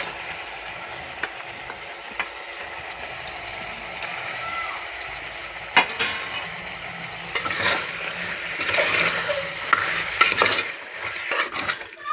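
Mutton pieces stirred and fried in a pan with turmeric, a steady close sizzle broken by scraping and clinking strokes of a spoon against the pan, growing busier toward the end.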